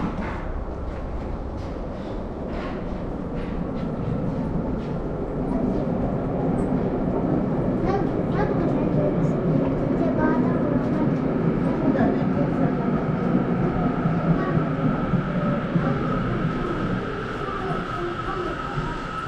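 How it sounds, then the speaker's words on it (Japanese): A Tokyo Metro Namboku Line local train arriving at Hon-komagome Station platform, a sustained loud rumble and whine of rolling wheels and motors for nearly twenty seconds, with station announcements heard over it. "The local train bound for 日吉 is arriving at track 2."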